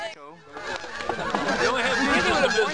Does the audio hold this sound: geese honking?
yes